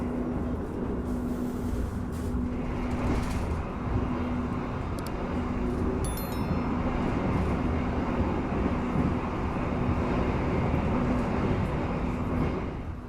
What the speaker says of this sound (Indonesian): Kereta api Argo Merbabu dari Gambir tujuan Semarang Tawang.